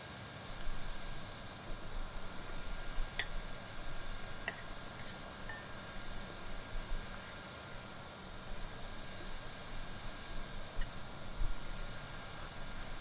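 Boeing 737 MAX 8 engines in the X-Plane 11 flight simulator, a steady broadband jet roar with a faint high whine, continuous and even at moderate level.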